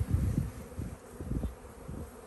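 Honey bees in a nuc beehive, a low, close buzzing with irregular pulses of louder hum as individual bees pass near, fairly quiet and with no talking.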